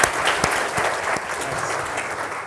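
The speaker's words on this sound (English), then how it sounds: "I just want to give everyone a round of applause to all these new SWAN members for joining me" Brief burst of audience applause at a water utilities forum, many hands clapping together in a lively patter that starts strong and tapers slightly over a couple of seconds.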